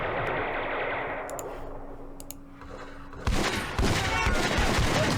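Gunfire from the Vietnam War game Campaign Series Vietnam, set at the Battle of Ba Ria 1968, aimed at snipers: a sustained burst of loud crackling fire that suddenly intensifies into a dense, close fusillade halfway through.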